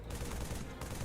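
Rapid gunfire in a modded Halo 3 game, aimed at the legs of a giant Scarab walker, comes as a dense, loud burst of repeated shots with a brief dip partway through.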